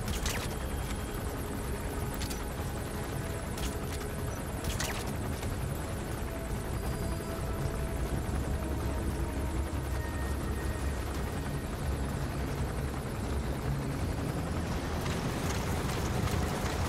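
A helicopter in the game Metal Gear Solid V, a heavy continuous rotor roar that stays loud and close throughout, with a few sharper bangs and clatters early on.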